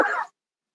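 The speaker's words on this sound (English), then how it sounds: "she coughs." A woman gives a single short, sharp cough, close and dry, cut off abruptly into silence.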